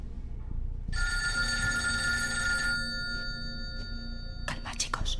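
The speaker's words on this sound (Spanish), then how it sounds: "Es solo un teléfono, tranquilo." A telephone bell rings in a sustained metallic trill for nearly two seconds, then fades, with faint voices and background noise underneath and a few sharp clicks near the end.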